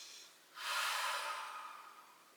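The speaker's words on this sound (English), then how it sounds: "Deep breath in and out" One slow, deep breath is drawn in and let out during a stretching session, a soft airy rush that swells and then fades, heard close with no talk.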